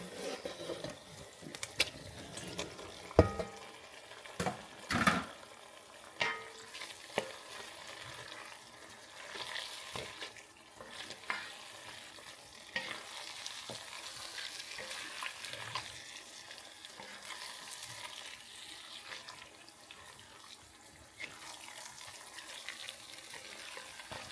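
Liver frying in a pan for jollof rice, a soft, uneven sizzle with scattered crackles and a few sharp clinks and knocks early on, quiet and close.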